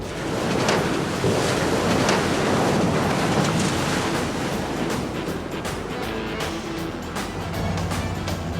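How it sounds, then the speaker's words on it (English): A 1941 Dodge amphibious army truck pushes into the water amid a steady, loud roar of splashing surf and heavy wind buffeting the microphone, with no talking. "When you get to the water, though, is when this truck gets really fun."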